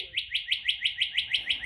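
Birdsong from a bird video being played for a cat: a bright, rapid series of about ten evenly spaced chirps, clear and close, with no talking.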